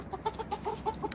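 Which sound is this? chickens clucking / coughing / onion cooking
chickens clucking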